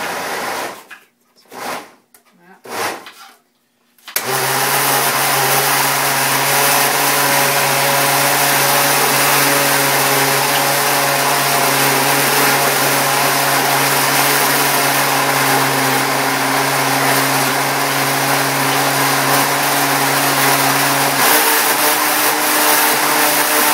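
A Magic Bullet blender motor whirs loudly and steadily in a kitchen after a few seconds of quiet clatter, holding a constant buzzing drone for close to twenty seconds with no talk over it.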